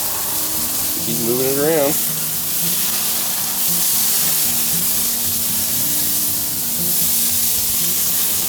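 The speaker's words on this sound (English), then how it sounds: "we are now searing the leg of lamb" A leg of lamb searing on a charcoal grill with wood chunks, a steady close hiss and sizzle running throughout, with a brief spoken remark near the start.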